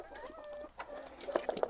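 Backyard hens cluck in short, close bursts, several calls overlapping near the end with some background noise.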